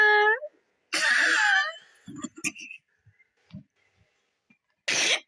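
A person coughs once in a harsh, breathy burst, surrounded by short vocal sounds, faint breaths and small rustles in a quiet room.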